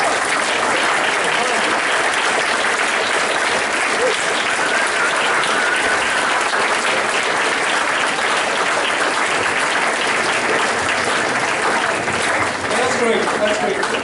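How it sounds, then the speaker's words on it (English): Sustained applause from a large audience honoring teachers and professors at a university commencement awards dinner, a loud, dense, continuous wash of many hands clapping for the full length with no breaks. "give a round of applause to all your teachers and professors"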